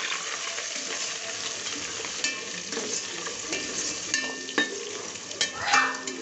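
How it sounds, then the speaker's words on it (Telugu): Onions sizzle and fry in hot oil with bay leaves in a pan for Hyderabadi bagara rice, steady crackling frying noise with a spoon scraping and stirring in several louder strokes near the end. "ఆనియన్ వేసి కలుపుకుందాం."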